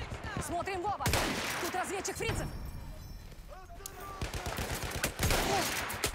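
Rifle shots ring out in Battlefield 1, several sharp cracks spaced unevenly, one near 1 second and a cluster toward the end, with someone talking over much of the firing.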